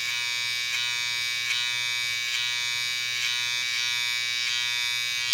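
An electric hair trimmer used for fading hair hums steadily and close up throughout, a continuous buzzing drone with faint periodic clicks as it passes over the head.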